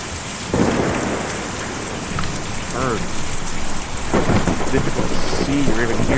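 A thunderstorm in the video game Kentucky Route Zero: steady heavy rain pours on surfaces with a low rumble of thunder building, loud and continuous, while a voice speaks briefly over it.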